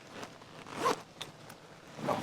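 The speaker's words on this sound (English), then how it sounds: "I could actually zip these sleeves up with the hoodie underneath it." Zipper being pulled on the sleeves of a leather motorcycle jacket worn over a hoodie, with a short rasping run near the middle and another at the end, close and fairly quiet, with no voices.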